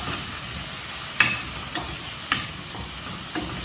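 Masala being sautéed for a no-onion, no-garlic aloo gobi pulao, a soft steady sizzle in the pan broken by a few sharp spoon knocks against the vessel as it is stirred.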